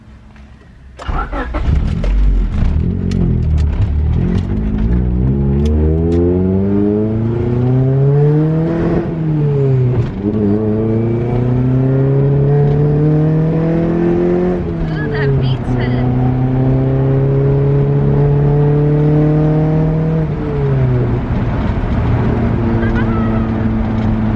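A Honda CRX engine cranks and starts, then revs up and down several times in long rising and falling sweeps that sound loud and close. A voice is heard briefly.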